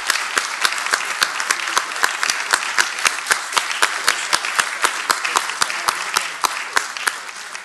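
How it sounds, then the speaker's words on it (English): Audience applause at a panel event, steady dense clapping filling the room throughout at a loud, even level with no talk over it. "Let's give this great panel a hand of applause."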